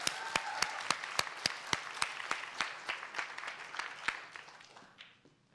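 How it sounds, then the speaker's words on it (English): A small audience at a regional poetry recitation contest claps for student poets, distinct individual claps in a loose, spaced rhythm that thins and fades away toward the end. "Let's have a warm round of applause."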